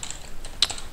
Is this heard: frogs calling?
no